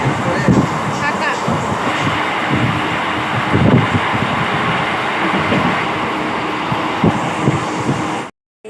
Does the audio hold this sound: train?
yes